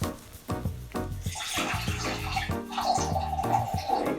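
Pickle juice pours steadily into a big-batch Bloody Mary pitcher, a continuous close liquid splash and gurgle after a few light knocks, with no one talking.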